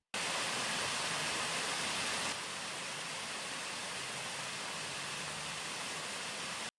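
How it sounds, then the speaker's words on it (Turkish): Waste water pours from an opened sewer drain cover into Karaca Creek, a steady, loud, broadband rush of falling water that holds constant throughout, slightly softening partway through, with no voices. "belediye ekipleri gider kapağını açarak atık suyun Karaca Deresi'ne boşaltılmasını sağlıyor"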